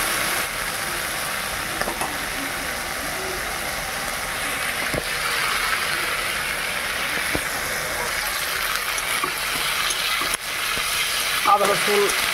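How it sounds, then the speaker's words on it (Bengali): Ginger, garlic and onion fry for ghugni, making a soft, steady sizzle with occasional stirring clicks and a brief clatter near the end. "আদা রসুন পেঁয়াজ মোটামুটি ভাজা হয়ে গেছে"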